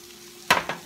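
Salmon sautéed with bell peppers and onions is stirred in a pan, two quick scraping strokes over a soft sizzle, close and brief.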